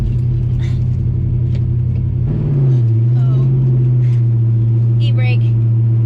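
A Ford Mustang Foxbody with a swapped Tremec T-56 Magnum six-speed manual idles with a loud, steady, low engine rumble, dipping slightly partway through and then holding even. Occasional clicks and faint voices sound over the running engine.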